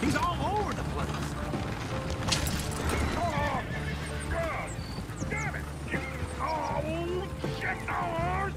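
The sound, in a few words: horses neighing in video game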